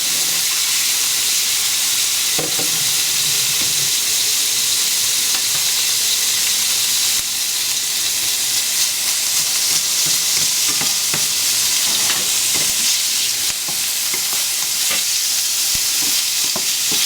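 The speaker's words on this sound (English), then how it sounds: "Okay, we're going to start cooking our pork." Pork sizzling hard in a hot pan for Korean jjajangmyeon, with a steady loud frying hiss broken by scrapes and knocks as the meat is stirred, no voices.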